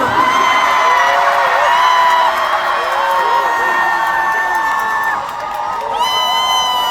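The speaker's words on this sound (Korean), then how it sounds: "지금 전국 투어를 돌면서 가장 소리가 크고 함성이 커서 제가 못 있겠다 했는데 어제를 뛰어넘습니다" A packed concert audience on a national tour screams and cheers loudly, a sustained wall of high shrieks and whoops that dips briefly and then surges again near the end.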